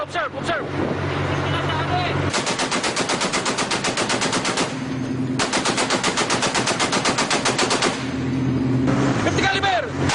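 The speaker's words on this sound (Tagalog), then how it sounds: "50 caliber!" A .50 caliber machine gun fires two long, loud bursts of rapid, evenly spaced shots during a naval clash near mangroves. An engine drone fills the gaps before, between and after the bursts.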